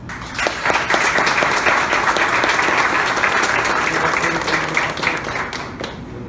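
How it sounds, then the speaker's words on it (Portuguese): A church congregation applauds at a book launch, a loud, dense round of clapping that runs steadily and eases off slightly near the end. "a nossa salva de palmas"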